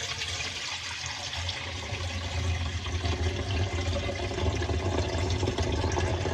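Running water splashes and sloshes steadily as rice is rinsed, a continuous close-up wash of liquid with no speech, growing slightly louder partway through.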